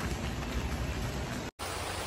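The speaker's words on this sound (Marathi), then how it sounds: "हे बघा किती जोरात पाऊस पडतोय" Heavy rain pours down steadily, a dense close hiss with no talk, broken by one brief cut near the end.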